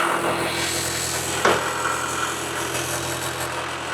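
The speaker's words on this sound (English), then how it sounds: "the little mini tractor is alive again." A small mini tractor engine idles steadily nearby with a low, continuous chugging hum and one brief louder clunk partway through.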